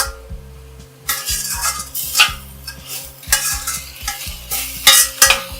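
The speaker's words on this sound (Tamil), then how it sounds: "இதில் நம்ம இஞ்சி, பூண்டு இது ரெண்டையும் சேர்த்தாச்சு. நல்லா வதக்கிடலாம்." Onion, tomato, ginger, garlic and mint sauté in a pan for mushroom masala gravy, with a spoon repeatedly scraping and clinking against the metal over a soft sizzle and a low steady hum.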